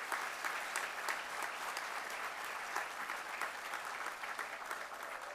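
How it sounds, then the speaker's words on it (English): An audience at a San Marcos city council meeting applauds a business award given to a company CEO, with steady, dense clapping sustained throughout at moderate distance. "Let's give a round of applause to Hunter Industries and their Chief Executive Officer, Greg Hunter."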